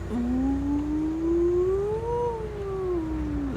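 An air raid siren in Israel wails, slowly rising and falling in pitch, sounding continuously for several seconds at moderate distance.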